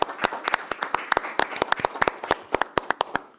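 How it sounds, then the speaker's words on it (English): A small group claps for a former Sequoia superintendent during a council rules committee meeting, sparse, uneven hand claps with distinct individual slaps over about three seconds. "I think he deserves an applause"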